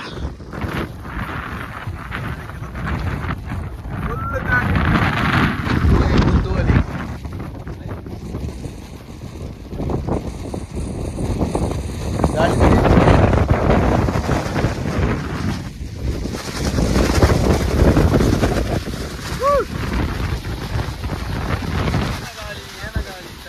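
Strong wind roars and buffets close to the microphone in rising and falling gusts on a trek, with water noise beneath and occasional voices.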